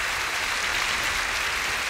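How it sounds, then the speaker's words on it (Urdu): A church congregation claps together in praise of Jesus, a steady, dense wash of applause filling the whole moment at an even level with no voices breaking through. "آئے خدا یسوع کے لیے تالیاں بجائیں گے۔"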